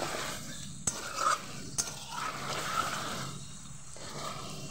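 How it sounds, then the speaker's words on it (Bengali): Chicken sautéed in oil with chili powder and turmeric, a soft, fairly faint sizzle with a couple of sharp utensil clicks and a brief stirring scrape, no talking. "আগে লঙ্কা গুঁড়ো আর হলুদ দিয়ে আমি একটু কষিয়ে নেব"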